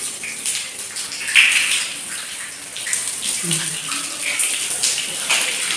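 Water splashing and running as a room is washed down, hosing cobwebs and grime off walls while avoiding the electric lines; a steady wet gushing wash, fairly close, with no talk.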